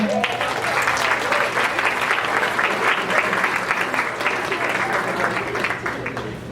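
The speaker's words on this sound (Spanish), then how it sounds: "yo creo que se merecen un aplauso por estar aquí" Sustained applause from an audience of chemistry olympiad students in a classroom or lecture setting, steady and fairly loud, over a low constant hum.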